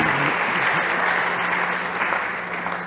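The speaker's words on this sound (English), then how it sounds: "please, big applause" Audience at a health startup competition breaks into brief, loud applause, dense clapping from many hands with a faint low hum underneath, lasting about three seconds.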